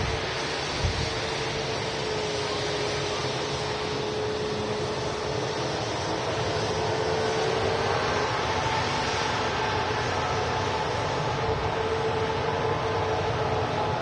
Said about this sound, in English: Lovely sound from them LEAP engines.